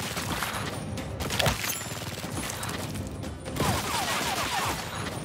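Rapid bursts of video game gunfire from Gears Tactics crackle almost continuously, dense and loud, with metallic mechanical clatter mixed in.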